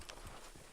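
Horse hooves clip-clopping at a steady pace in the Red Dead roleplay game, moderately loud with a faint background bed and no talk.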